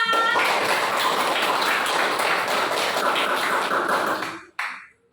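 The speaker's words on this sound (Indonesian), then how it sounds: "Tepuk tangan untuk kita semua." Classroom applause, loud continuous clapping from a group of students filling several seconds up close, then cutting off abruptly with a brief trailing burst.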